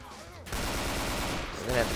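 Dense rapid gunfire in the Left 4 Dead 2 video game, a continuous close burst of shots lasting over a second after a brief quieter stretch.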